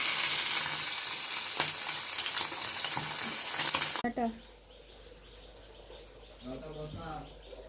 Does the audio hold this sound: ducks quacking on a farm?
no